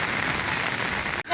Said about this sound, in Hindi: दूसरी तरफ तेज़ बारिश हो रही है